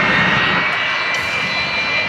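An aircraft roaring down the runway in a race at an airshow, a loud, steady, close engine drone with a faint whine riding on top and no talk over it.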